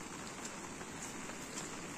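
Heavy rain pours steadily over open farm fields, a dense continuous hiss of falling drops with no breaks or voices.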